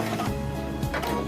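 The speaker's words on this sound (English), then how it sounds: "on this machine we also have an automatic thread trimmer" A Singer Quantum Stylist 9960 sewing machine runs its automatic thread trimmer, a brief close mechanical whir with two quick clicking actuations.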